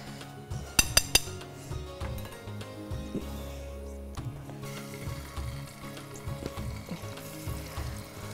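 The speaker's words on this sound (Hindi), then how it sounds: "अब हम इसको करेंगे फ्राई करेंगे ताकि इसका अच्छी तरह से इसका फ्लेवर आ जाए" Food fries in a pan with a little ajwain for a barbecue flavour, a soft sizzle under a few bright metallic clinks near the start, followed by scraping and stirring of utensils at moderate volume.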